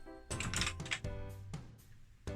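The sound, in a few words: typing a program on a BBC Micro computer keyboard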